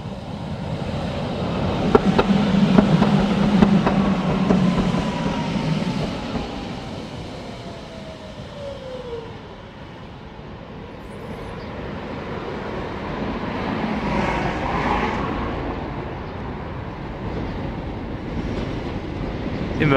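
A Brussels tram, car 7942 on route 56, rumbles out of the pre-metro tunnel in June 1998, its steady rolling noise rising and fading with a long descending squeal midway and some wind buffeting.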